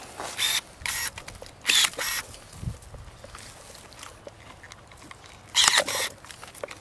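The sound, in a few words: pruning shears snipping grape vine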